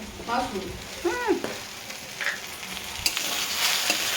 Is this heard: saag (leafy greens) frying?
yes